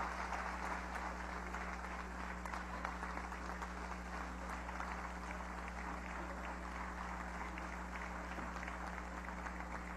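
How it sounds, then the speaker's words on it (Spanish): Audience applause at a session of Venezuela's National Constituent Assembly, steady broadband clapping sustained for the full stretch under a constant low mains hum, fairly distant and even. "Un aplauso."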